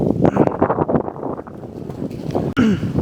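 Wind gusts buffeting a microphone outdoors on a golf course, a steady roar with rumbling surges that briefly drop out near the end.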